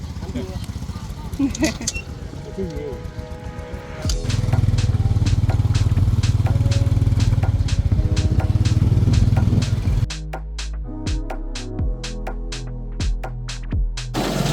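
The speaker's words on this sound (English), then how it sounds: "So this type of transportation is not a tuk-tuk. It's called a remorque" A remorque, a motorcycle-drawn passenger trailer near Angkor in Cambodia, drones with a loud steady engine hum that rises midway and then drops to a lower rumble with clicking, while people talk throughout.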